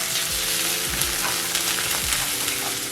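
Minced garlic sizzles steadily in a hot pan, with a few scraping stirs of a utensil breaking through the constant frying hiss, close and fairly loud.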